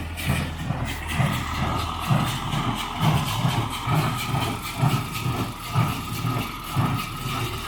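An MTZ-892.2 tractor drives a Sipma Z-224-1 baler, a low mechanical rumble with rhythmic thumping pulses about every half second, steady and close, no talking.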